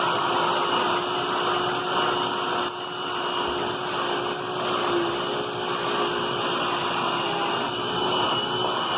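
A Hoover Tempo vacuum cleaner runs close by with a loud, steady whirring roar that holds an even pitch throughout, with only a brief dip partway through.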